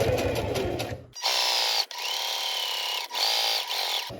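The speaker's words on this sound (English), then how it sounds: "Make a stitch or two, but just keep working the fabric around." A sewing machine stitches awning fabric in short bursts, its steady whirring motor stopping and restarting several times as the fabric is worked around, following a brief clatter at the start, close and fairly loud.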